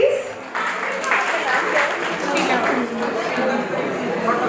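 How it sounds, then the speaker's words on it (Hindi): A crowd at a first birthday party claps for a child receiving a double prize, a steady dense patter of many hands lasting a few seconds, with voices mixed in. "ताली हो जाए जोरदार राघव के लिए प्लीज।"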